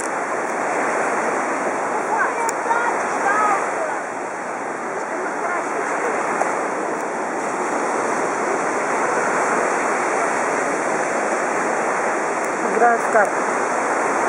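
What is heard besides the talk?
waves at an empty beach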